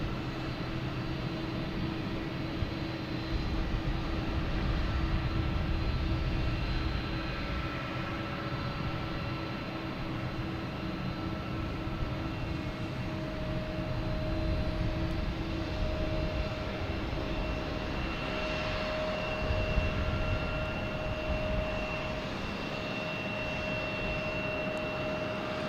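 A Southwest jet airliner on the runway at Boston Logan Airport, its engines giving a steady, loud roar with a sustained whine that holds for the whole stretch, swelling slightly at times, with no voices over it.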